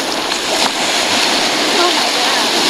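Ocean surf churns and rushes with strong, steady roaring water at a beach while a hammerhead shark is being fished, loud and close throughout.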